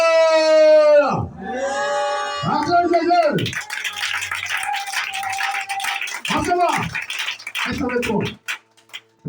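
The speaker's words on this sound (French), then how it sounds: "Alléluia! Acclame Jésus!" A church congregation cheers and acclaims Jesus: loud, ringing shouted calls from a leading voice give way to a sustained roar of crowd cheering and clapping, with more shouts breaking through.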